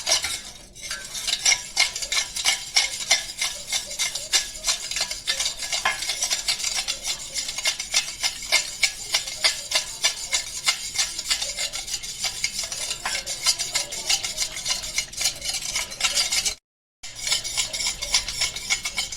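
Potatoes are mashed into tomatoes while stirring in a pot, giving a continuous scraping, rubbing churn with rapid utensil strokes against the metal. It runs steady and close throughout, broken by one brief silent gap near the end.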